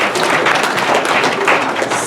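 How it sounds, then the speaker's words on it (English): A live comedy and poetry show audience claps steadily, a dense wash of applause continuing throughout without any clear voice. "give it a round of applause for yourself"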